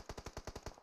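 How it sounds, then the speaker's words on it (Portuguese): Rapid automatic gunfire in the mobile battle royale game PUBG Mobile, a tight burst of about seven evenly spaced shots, sharp and fairly faint. "muito tiro pra cima, é uma surra de bala que tá vindo pra cima da equipe"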